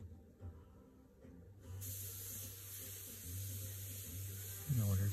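An airbrush fitted with a MAC valve sprays paint while airbrushing a lion fish, giving a steady close hiss that rises and holds, with a faint tonal hum and a brief sharper burst at the end.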